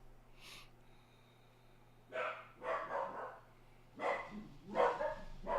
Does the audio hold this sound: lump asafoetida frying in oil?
no